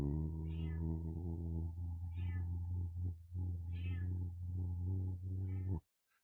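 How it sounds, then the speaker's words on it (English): A cat meows repeatedly in drawn-out, insistent cries indoors, close and clear, over a steady low electrical hum that cuts off abruptly near the end. "she's just meowing her head off"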